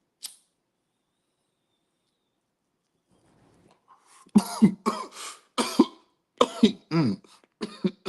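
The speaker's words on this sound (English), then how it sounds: "It ain't good if it don't make you cough." Coughing fits after a hit of smoke, a burst of several harsh close coughs in quick succession following a few seconds of near silence, with a brief throat-clearing sound mixed in.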